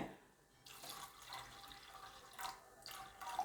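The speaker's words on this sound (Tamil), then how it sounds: "இந்த சுண்டைக்கடலை வேகிறதுக்கு தேவையான அளவு தண்ணி ஊற்றிக்கிறேங்க" Water runs and splashes in uneven bursts, poured from a container into a pot of white chickpeas for boiling, fairly quiet with a few louder gushes.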